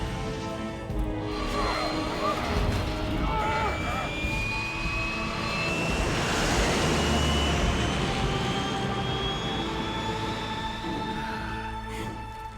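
Aircraft engine in Metal Gear Solid 3 roars steadily for about twelve seconds, with a rising whine sweeping upward through the middle and a swelling rumble near the end, heard under game music and effects.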